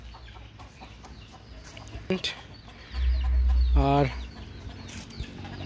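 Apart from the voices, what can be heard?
roosters crowing nearby at dusk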